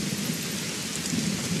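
Rain falling in the video game The Isle, a steady hiss of dense downpour with a low rumbling undertone, continuous and even, no voices.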